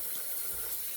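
Running water streams steadily from a tap while shaving cream is rinsed off a face at a sink, a close, continuous splashing hiss.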